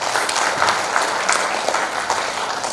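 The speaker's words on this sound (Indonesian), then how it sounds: "Kan tepuk tangan buat dua dong" Loud, close applause fills a regional planning meeting hall in Papua as the audience claps for hospital and health officials, a dense continuous clatter of many hands without speech.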